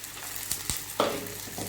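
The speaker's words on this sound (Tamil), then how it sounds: "வெங்காயம் இந்த அளவுக்கு வதங்கினா போதும் இது கூட வேக வச்ச ஸ்வீட் கார்னு சேர்த்துக்கலாம்" Onion and boiled sweet corn sautéing in a pan for egg samosa filling, a steady close sizzle and fry with a few soft stirring scrapes and clicks, no talk.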